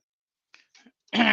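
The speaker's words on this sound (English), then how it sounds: "That cough just won't go away" A couple of soft, short throat noises, then a sudden harsh cough bursts out loudly at the end.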